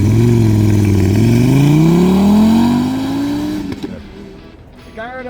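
A salvage Lamborghini Gallardo with E-gear transmission pulls away, its engine note rising steadily in a loud, close rev that fades and drops off near the end.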